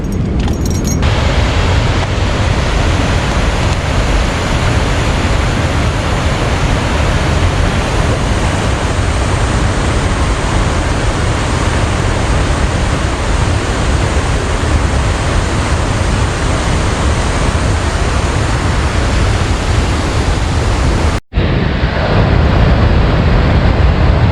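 Loud, constant roar of a waterfall at Willow River State Park in Hudson, Wisconsin, broadband and steady throughout with one brief cut near the end, no voices.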